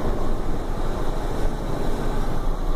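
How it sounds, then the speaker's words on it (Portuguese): Steady, loud engine drone from a truck accelerating on a mountain road, with a broad continuous roar and a faint higher-pitched turbocharger whine held throughout. "Olha o barulho do meu turbo."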